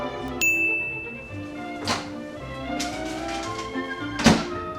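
A microwave oven door clicks open with a single bright ding near the start, then a few dull thunks and clatters over a low background hum.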